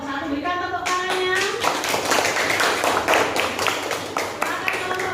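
A class of students claps for a group, starting with a few voices and then breaking into loud, close clapping that swells and continues with a ragged rhythm.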